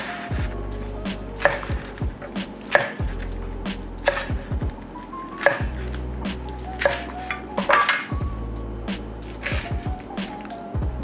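A knife slices through a rolled food on a cutting board, producing a series of repeated crisp cuts and board taps at a steady rhythm, close and clear, with low rumbling thumps between the strokes.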